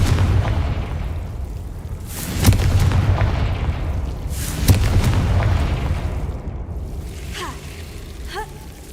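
A Confringo blast curse in Hogwarts Legacy explodes in two loud, close booms a couple of seconds apart, each with a rumbling tail, followed by lighter magical swishes; a voice speaks over the game sounds.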